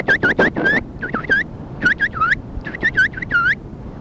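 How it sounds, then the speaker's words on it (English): A sparrow-like bird sound effect: a dozen or so bright, rising chirps in quick clusters of two to four, with short pauses between groups, close and clear with no voices. "a sparrow, or a bird very similar to a sparrow on their planet, landed on Joe's shoulder and said something like"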